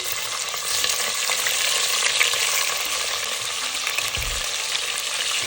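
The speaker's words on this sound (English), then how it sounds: "Be sure to be careful as the oil pops out very fast" Vegetables and chili stirred in hot oil in a pressure cooker pan, a steady dense sizzle with crackling pops and an occasional scrape of stirring, close and continuous, no talk.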